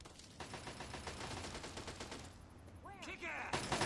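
Rapid enemy gunfire in Fallout 3, a dense burst of repeated shots that runs throughout, fairly quiet and mixed with game ambience and other effects.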